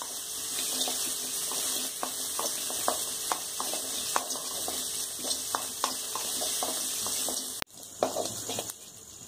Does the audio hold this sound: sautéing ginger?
yes